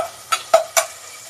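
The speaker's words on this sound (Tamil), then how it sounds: "இந்த ஆயில் வதக்கும் போது கொஞ்சமாக இது வந்து பிரியாணி அளவுக்கு ரொம்பலாம் வதங்கணும்னு அவசியம் கிடையாது." Ingredients sautéed in oil for mutton dalcha hiss softly in a pan as a spoon stirs them, with three quick scraping strokes over a faint, close sizzle.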